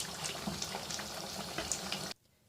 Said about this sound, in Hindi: मैं इसको उस वक्त तक फ्राई करूँगी जब तक जो है हमारा ऑयल जो है वो सरफेस पे आने लग जाए